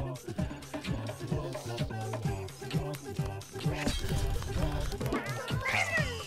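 A cat meows and caterwauls in a video game, heard amid busy game sounds and music while a person talks over it.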